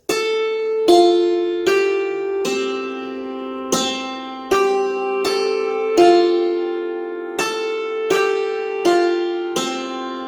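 The Westminster chimes melody rings out in slow, evenly spaced bell-like tones, each note sustaining and overlapping the next, bright and resonant with no talking.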